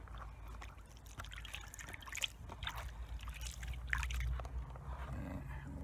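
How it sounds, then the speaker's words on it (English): Water and gravel sloshing and trickling as they are washed back into a gold pan while prospecting in Victoria, Australia, a steady close wet swishing and gurgling with no talk. "I'll just wash that back into the pan here."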